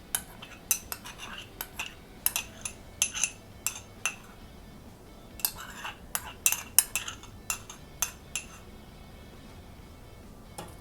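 A metal spoon stirs curd into a bowl of milk, giving a string of light, irregular clinks and scrapes against the dish, close and quiet against a still kitchen.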